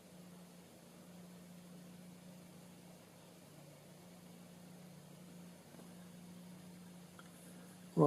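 A Pioneer PL12D turntable left spinning on its own, a faint steady motor hum with low mechanical whir, quiet and unchanging until a brief clunk at the very end.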